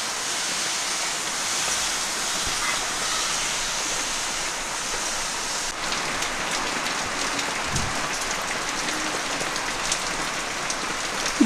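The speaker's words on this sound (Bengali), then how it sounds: "আমাদের এখানে খুব বৃষ্টি হচ্ছে" Heavy rain pouring steadily outside, a dense continuous hiss of drops on surfaces, fairly loud and even throughout with a few faint knocks and no talking.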